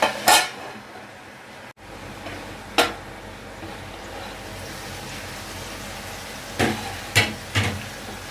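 Metal lid set down on a pan of cooking tomatoes for chutney: a few sharp clanks and rattles, one early, one near the middle and a short cluster near the end, over a soft background hiss.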